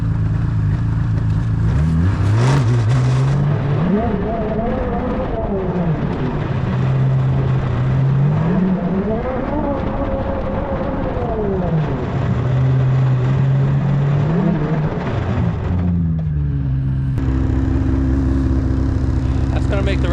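A pull-start engine on an ice fishing trip running steadily close by, a loud continuous drone whose pitch rises and falls in slow waves over twenty seconds before settling to a lower idle.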